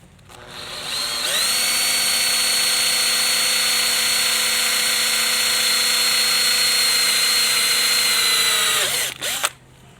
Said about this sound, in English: use the same drill bit just now and drill a hole here